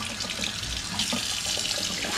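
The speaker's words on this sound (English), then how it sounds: "I'm just rinsing the gammon joint off." Tap water runs over a gammon joint in a pan, a close, steady splashing stream with small shifts in its gurgle as the meat is rinsed.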